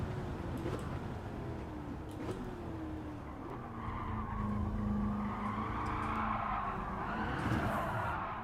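A heavy Dodge Hellcat skids and oversteers in Gran Turismo 7, a sustained tire squeal over a droning engine that rises and wavers as the car slides, loud and continuous throughout.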